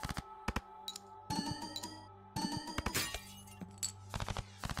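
A glass card shatters in a video card game with sharp, bright breaking and clinking bursts, interspersed with quick clicks and chimes, fairly quiet overall.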